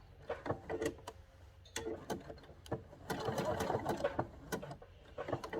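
A sewing machine stitching a machine appliqué runs in short bursts of rapid mechanical clatter and needle ticking, with brief pauses and a sustained whirring run in the middle, close and with no voice.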